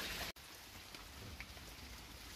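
Steady rain falling on the ground outdoors, a soft, even hiss of drops, quiet and continuous apart from a brief dropout near the start.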